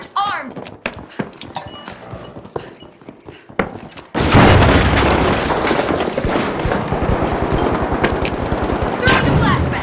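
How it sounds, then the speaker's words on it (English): A breach charge explodes in the video game The Finals: scattered shots and clicks, then a sudden loud blast that gives way to heavy, continuous automatic gunfire and rumbling, with brief voices mixed in. "Breach charge armed!"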